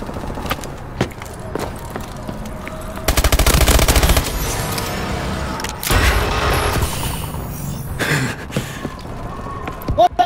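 Rapid automatic gunfire in a Call of Duty: Advanced Warfare Search and Destroy match, a loud sustained burst, then further bursts and scattered single shots, with players talking at times.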